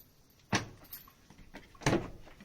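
Door lock on a Great Wall pickup truck RV being manually locked with a key: two sharp mechanical clunks about a second apart, close and fairly loud, with a faint rattle between them and no talking.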